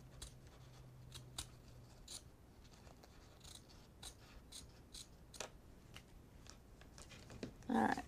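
Scissors trimming thread on a sewn bench pillow, heard as a string of quiet, irregular snips and clicks over a low background, with a louder rustle near the end.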